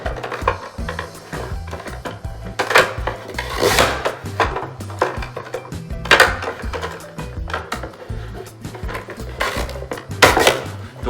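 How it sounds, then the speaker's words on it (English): A small French fry cutter machine slices Yukon Gold potatoes with repeated loud clattering thumps and rattles, several bursts spaced a couple of seconds apart, close by with no talking. "I've got this little French fry machine, but you can cut them by hand. It makes a lot of racket though."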